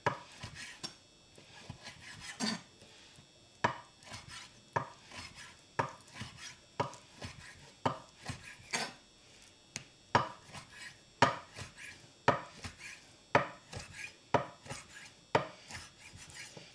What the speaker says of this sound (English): You definitely want a nice sharp knife when you're cutting bacon.